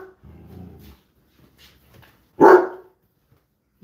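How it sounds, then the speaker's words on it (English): Toby the dog lets out one loud, sharp bark up close, preceded by a low growl and soft whimpering sounds. "He likes to bark."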